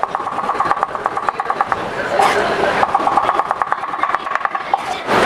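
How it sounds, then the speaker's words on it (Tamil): Knife chopping mushrooms into medium pieces for a roadside-style mushroom masala, a steady run of quick, close chopping taps on a board with a brief pause midway and faint talk around it. "இந்த காளானே நம்ம மீடியம் சைஸில் கட் பண்ணிக்கலாம்."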